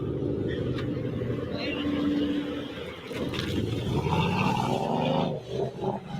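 A Mercedes-AMG twin-turbo V8 roars loudly and steadily as it pulls away from a car meet, with crowd voices mixed underneath the engine.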